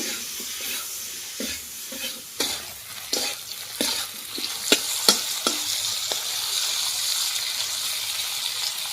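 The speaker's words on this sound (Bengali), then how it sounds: "এর মধ্যে পুরো লবণ দিয়ে দিচ্ছি আর দিয়ে দিচ্ছি হলুদ, দিয়ে ভালো করে একটু ভেজে নেব।" Sliced okra fries with salt and turmeric, sizzling steadily in a pan while a spoon scrapes and taps against the metal in irregular strokes, close up and with no voices.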